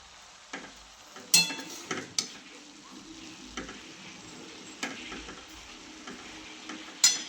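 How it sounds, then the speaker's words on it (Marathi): Dill leaves cook as a dry vegetable dish stir-fried in a pan, with a soft sizzle under irregular metallic spatula scrapes and clinks, several sharp and close, and no talking. "आता पहिल्यांदा सुकी भाजी करायला लागली मी. शेपाची भाजी."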